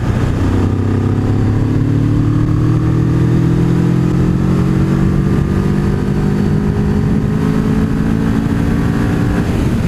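Kawasaki ER-6n motorcycle engine heard while riding, a loud steady drone with rising pitch bands as it pulls through the gears, close and continuous throughout with no talking.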